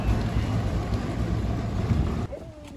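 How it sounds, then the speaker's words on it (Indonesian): A tractor rumbles past in the village of Blauwhuis in the Netherlands, a loud, low engine drone close by that cuts off sharply near the end, leaving quieter background sound. "Traktor lewat guys."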